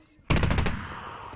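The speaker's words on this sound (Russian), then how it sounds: "Предупреждающие выстрелы" A soldier fires warning shots: a quick burst of about five sharp gunshots in rapid succession, fairly close, followed by a fading echo.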